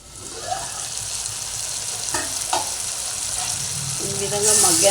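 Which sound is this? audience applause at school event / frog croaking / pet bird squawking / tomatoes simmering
tomatoes simmering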